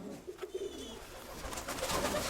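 A pair of white pigeons, a cock and a hen, cooing close by in a loft, with soft repeated coos over a quiet background.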